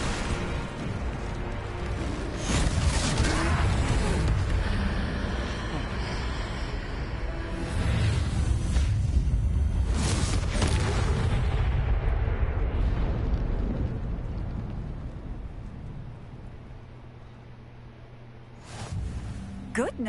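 Confringo fire spell explosions in the Hogwarts Legacy video game during a troll fight, several loud fiery bursts and booms with roaring rumble, mixed with character voices and battle noise, tapering off near the end.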